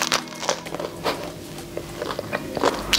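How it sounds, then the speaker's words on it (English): Crunchy sourdough bread sandwich being bitten and chewed close up, with crisp crackly crunches and soft squishy bursts repeating over a few seconds, no talking. "The bread is so crunchy and delicious."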